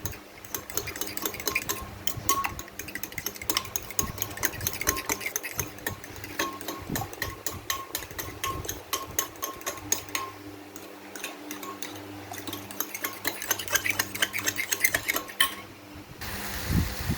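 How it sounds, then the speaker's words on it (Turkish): Eggs with chili flakes for menemen are whisked briskly in a bowl, a fast continuous clatter of a utensil against the sides, close and steady with no talking. "Biraz da şöyle çırpalım."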